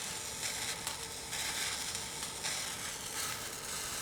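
Pan juices from a roasting loin of pork with bay leaves boil and reduce in a hot pan, giving a steady, close sizzling hiss with slight surges and no voices.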